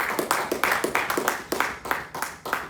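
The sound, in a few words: congregation applause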